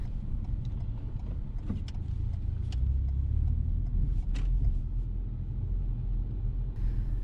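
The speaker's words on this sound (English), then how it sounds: "since it's a very tight corner, we drop to first gear" A car crawls around a tight right-hand corner in first gear, its engine a low steady rumble from inside the cabin, with faint ticks and clicks over it and no voices.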